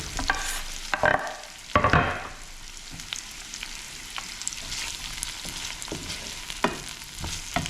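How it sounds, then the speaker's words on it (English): Onions and garlic sautéing in a pan give a low, steady sizzle, broken by loud scrapes and clacks as a utensil stirs them, then lighter taps against the pan. "And just let them sweat down a little bit."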